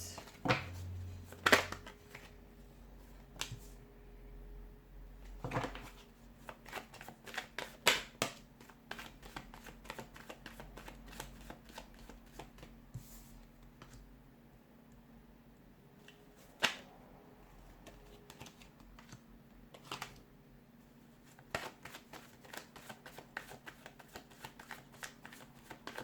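Tarot cards shuffled during a Leo reading, heard as close, crisp riffling bursts and slaps scattered across a quiet room with pauses between them and no talking.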